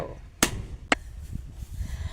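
Two sharp hammer strikes land about half a second apart, the first louder, close by over faint background noise.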